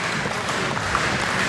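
A wrestling crowd at the Richard Holliday versus Mickey Midas main event roars and applauds in a dense, continuous wash of noise with no break.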